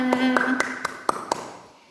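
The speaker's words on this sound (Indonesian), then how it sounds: "Tepuk tangan untuk kita semua." A small group of mothers at a child nutrition session claps briefly, around six distinct claps over a lingering voice, quick and close, then tapering off into quiet.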